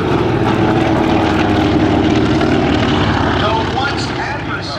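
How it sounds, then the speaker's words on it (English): Propeller-driven warbirds, a Japanese Zero and a Douglas SBD Dauntless dive bomber, roar past at an airshow in a loud, steady engine drone that fades slightly at the end. "From the left, the Japanese Zero and the Douglas SBD Dauntless dive bomber."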